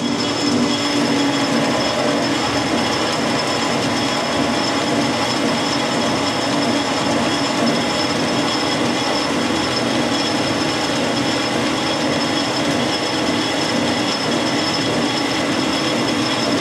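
Lathe cutting stainless steel with a continuous, loud, dense grinding and hissing roar that stays steady for the whole stretch with no talk.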